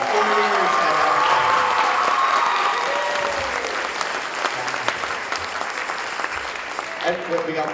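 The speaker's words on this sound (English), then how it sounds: "let's give them a huge round of applause" A concert audience applauds graduating seniors at a school instrumental music concert, broad clapping that gradually thins out, with cheers and talking mixed in and a voice coming back at the end.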